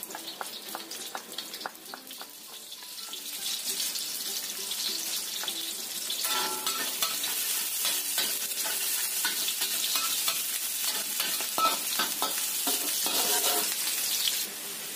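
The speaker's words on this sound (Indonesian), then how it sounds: "Kita tumis dulu bawang merahnya sampai matang." Shallots sizzle and crackle in hot oil, with repeated scraping stirs building in intensity throughout, no voices.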